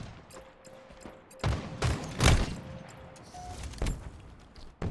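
Gunfire from an OpTic versus FaZe video game match pops out as scattered shots and short bursts at moderate volume, spaced irregularly across a faint background hum.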